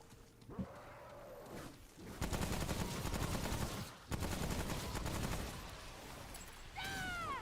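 Enemy machine gun fire in a Doom mod, heard as dense rapid bursts of shots across most of the passage, broken by short gaps, with a growl-like creature sound early on and a rising electronic whine at the end.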